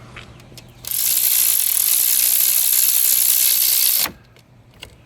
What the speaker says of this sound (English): All you need is a little baby ratchet like this